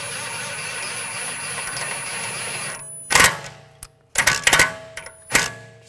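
Bolt on the rear passenger CV axle of a 2009–2013 BMW 328i xDrive 3.0L L6 being snugged down, heard as three or four sharp, loud bursts in close succession after a steady background hum.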